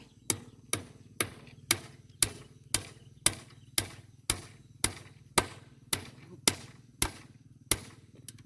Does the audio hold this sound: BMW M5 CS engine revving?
no